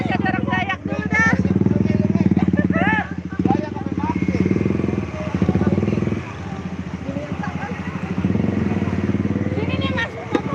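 A motorcycle engine idles and revs with a rough, pulsing drone at an August Independence Day carnival parade, close and loud, while people talk and chatter over it.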